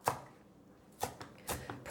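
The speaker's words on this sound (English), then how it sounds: "So I'm just chopping my lettuce up" Lettuce chopped with a knife on a cutting board for a BLT pasta salad: three crisp, quiet chops spaced about half a second apart, close up with no voices.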